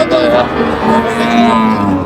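A cow and calf at Ambari cattle market in Dinajpur moo in long, drawn-out low calls, fairly close, over a steady murmur of background noise.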